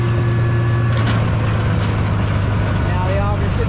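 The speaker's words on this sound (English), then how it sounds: "Now the auger should be running, and then we'll throttle her up a little here." A tractor runs a PTO-driven feed grinder with its auger turning, giving a steady loud droning hum with a constant low engine tone, all close and continuous.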